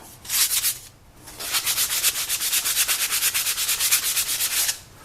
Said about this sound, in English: So we're going to sand this one up.